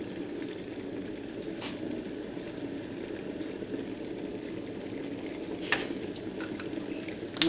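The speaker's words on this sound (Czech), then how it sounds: "voda se nám mezi tím uvařila" Water boiling for coffee gives a steady, even bubbling hiss that runs throughout at low volume, with a few faint clicks near the end.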